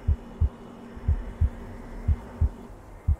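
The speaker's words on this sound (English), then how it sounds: "What's with the heartbeat?" Slow heartbeat playing in a VRChat horror map, a steady series of deep low thumps, about seven pulses spaced roughly half a second apart over a faint droning hum, with no talk over it.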